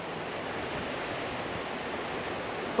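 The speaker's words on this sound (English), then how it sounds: "Look at these beautiful waves. You can see why it would be a surfer's mecca, right?" Ocean waves break at a steep surf beach as a continuous wash of broadband roar, steady and moderately loud, with a faint brief sound at the very end.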